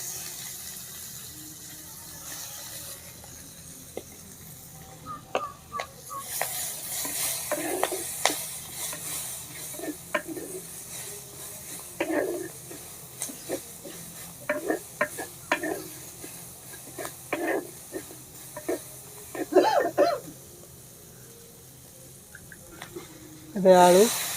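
Onion fries in hot oil with dried red chilies and cumin for a village-style fish curry, a soft steady sizzle broken by irregular scraping stirs and clinks of a spoon against the pan.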